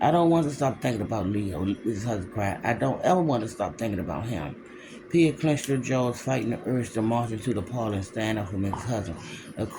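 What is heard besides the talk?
None of the usual background noises is heard.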